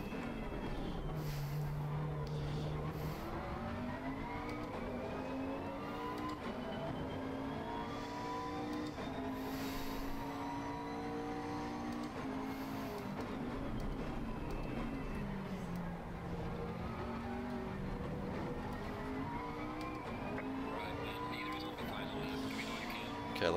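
McLaren 650S race car in Assetto Corsa Competizione at Zolder, its engine droning steadily through the whole stretch with rising and falling pitch sweeps as it accelerates and shifts, with a faint voice at times.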